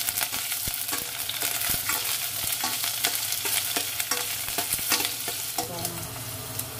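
Onion frying in a hot pan for balbacua, a loud steady sizzle with repeated scraping stirs and clinks of a utensil against the pan, no voices.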